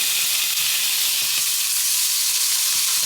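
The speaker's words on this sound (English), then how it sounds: "And now I'm going to add in the bacon" Bacon sizzling in a pan with corned beef, a dense, steady, loud frying hiss without break, plus faint stirring scrapes underneath.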